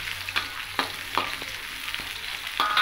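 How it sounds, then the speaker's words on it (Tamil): Onion sautés in hot oil with cinnamon and cloves, a continuous close sizzle punctuated by a few soft stirring scrapes. "சேர்த்துட்டு நல்லா எண்ணெயில் வதக்கிங்க கொஞ்ச நேரம்"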